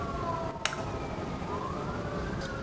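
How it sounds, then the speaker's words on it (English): A wailing siren sweeps up and down in pitch at a distance, steady and moderately faint, with a brief sharp click partway through. "The sirens, always, always. The second I start filming,"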